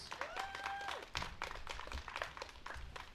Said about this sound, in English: A round of applause for that group of students.